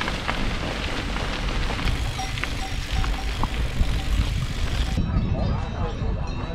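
Steady rain falls during a mountain bike tour in the Dolomites, a continuous broadband hiss of drops that runs through the clip, with a person speaking over it.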